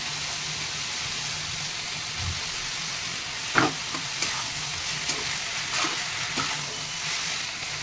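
Masala of green chilli, cumin, chilli, garlic and ginger sautéing in a pan for banana flower curry, a steady close sizzle broken by a few soft scrapes and taps of stirring, with no talk.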